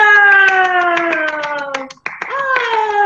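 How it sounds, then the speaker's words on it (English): A group at a school workshop claps in unison, a quick regular run of sharp hand claps with a brief pause near the end, while sustained vocal tones sound along with the clapping. "So this is a thank you clap for your teachers, for your school management, for your parents, and for all of you."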